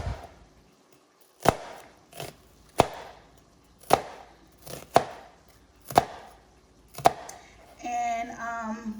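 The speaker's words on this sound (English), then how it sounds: "we're gonna chop up an onion and about 3 cloves of garlic" Onion and garlic cloves are chopped finely with a knife on a cutting board: about eight sharp, close knocks at uneven intervals, followed by a brief burst of other kitchen noise.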